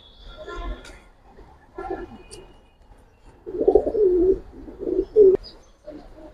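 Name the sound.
Giribaz and coloured pigeons cooing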